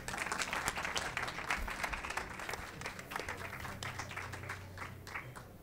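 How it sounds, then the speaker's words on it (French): Audience at a literary talk hosted by UNESCO at a book fair applauds to welcome a speaker, a moderate, steady patter of many hands at some distance, continuing for several seconds. "Merci d'applaudir Monsieur Benjeloun."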